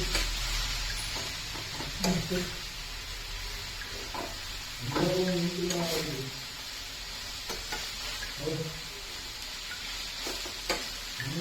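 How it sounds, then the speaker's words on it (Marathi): Chopped coriander leaves stir-fried in a pan for a Marathi-style coriander dish, a steady soft sizzle under scraping and stirring strokes of a spatula, with someone speaking over it. "कोथिंबीर छान अशी बारीक होईपर्यंत परतायची आहे आपल्याला"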